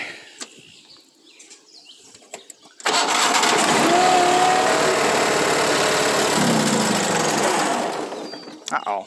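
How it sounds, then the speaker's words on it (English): A Proline lawn mower engine is pulled into life after a few quiet rattles, then roars loud and steady close by for several seconds before winding down near the end. "Let's go ahead and see about firing this up and cutting that down."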